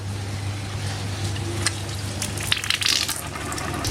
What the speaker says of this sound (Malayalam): ഇനി നമ്മൾ ടാപ്പ് തുറക്കുകയാണ്